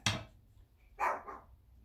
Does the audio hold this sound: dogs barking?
yes